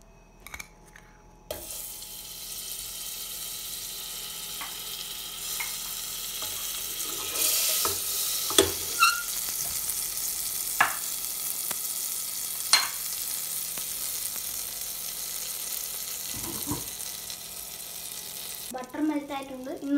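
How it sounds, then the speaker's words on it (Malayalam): Butter sizzling and melting in a hot pressure cooker, a steady bubbling hiss that swells after the butter drops in, with occasional utensil taps and a short clatter at the end. "ഇനി നമുക്ക് ബട്ടർ ആഡ് ചെയ്ത് നോക്കാം"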